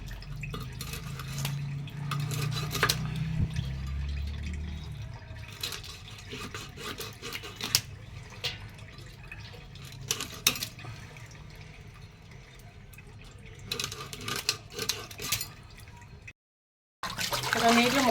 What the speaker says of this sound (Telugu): ముక్కలు అనేది కడిగేస్తున్నాము